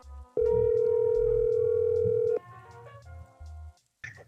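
A steady telephone dial tone sounds loud and alone for about two seconds while a call is placed to a comedy club, followed by fainter line clicks and tones.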